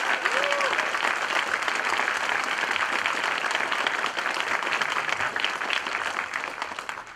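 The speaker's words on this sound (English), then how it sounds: "you all deserve a really big round of applause" An audience at the FIG awards show breaks into sustained applause, a dense, even wash of many hands clapping that holds steady throughout and only begins to thin slightly at the very end.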